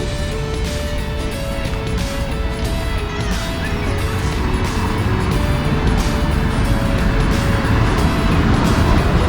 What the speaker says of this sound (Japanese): 車の通り多いですよ、